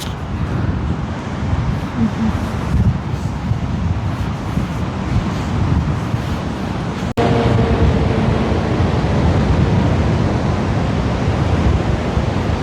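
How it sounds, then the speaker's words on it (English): Rough Atlantic Ocean surf at Nags Head, North Carolina, rolls in as a steady, dense wash of breaking waves, with wind buffeting the microphone and a sudden jump in loudness partway through. "North Carolina has some of the roughest surf on the Atlantic Ocean."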